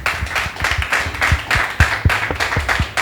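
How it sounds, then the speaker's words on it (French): A small audience applauds to welcome a guest onto a stage, with loose, uneven hand claps close by, fairly loud and sparse rather than a dense ovation. "Est-ce qu'on peut recevoir avec des applaudissements bien mérités Monsieur Aimé Khessou"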